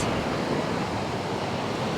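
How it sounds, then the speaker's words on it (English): Breeze blowing at Pensacola Beach, a constant broadband rush of wind and surf hitting the microphone that stays even and fairly loud throughout, with no voices. "So that breeze is beautiful."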